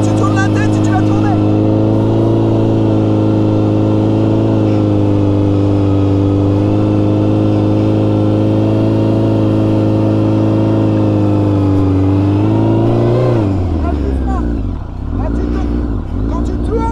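A motorcycle engine drones steadily and loudly during a riding lesson on a training course, then the pitch drops sharply near the end as the bike slows.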